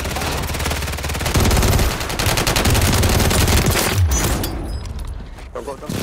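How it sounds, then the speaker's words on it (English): Rapid automatic gunfire rattles continuously in a battle royale video game, dense and loud, easing toward the end, with a voice speaking over it. "Oh, you're getting shot."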